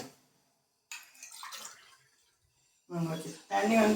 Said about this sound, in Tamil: இன்னும் கொஞ்சம் தண்ணி சேர்க்கணும்.